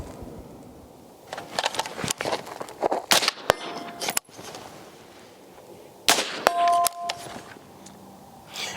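Rifle shots strike steel targets at a range during standing shooting practice, a series of sharp, irregular cracks with ringing metallic pings after some hits, heard fairly close with no talking.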